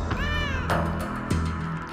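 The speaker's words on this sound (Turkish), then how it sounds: "Kediymiş ya." A cat meows once outdoors near a house, a drawn-out, clear cry over a steady low backdrop, with a faint thump afterward.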